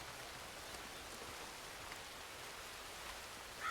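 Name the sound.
rain in video game Red Dead Redemption 2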